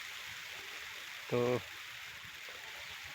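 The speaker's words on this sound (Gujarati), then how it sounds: "વરસાદ આવી ગયો છે તો સરસ વરસાદની મજા છે આજે" Rain pattering steadily on a farm field during the season's first monsoon shower, a soft continuous wash with a tractor nearby, briefly interrupted by a short spoken word.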